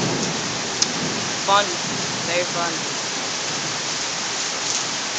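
Heavy rain from a severe Florida thunderstorm pours down in a constant dense hiss, while a person speaks briefly over it.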